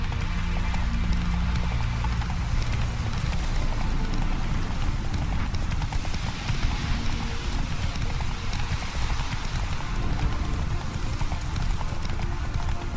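Galloping hooves of Roach, the horse in the video game The Witcher 3, pound in a steady, fast clip-clop rhythm that runs loud and continuous throughout, with no talking.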